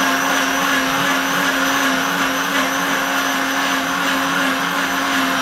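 A blender running on high cleans its own jug with hot water, giving a loud, steady whir and churning swish that holds evenly from start to finish with no talking.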